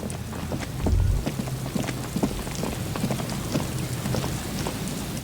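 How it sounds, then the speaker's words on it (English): Steady rain falls in the video game Disco Elysium, a dense continuous patter with scattered sharper drops and a brief low rumble near the start, heard alone without any talking. "The reeds chafe against one another while the rain falls."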